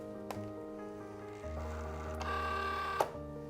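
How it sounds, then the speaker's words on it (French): A Cricut cutting machine whirs and hums as it checks the alignment of the loaded cutting mat, with motor tones shifting in pitch, a soft click near the start and a sharper clack near the end, close and steady. "La machine va vérifier que le tapis est bien aligné"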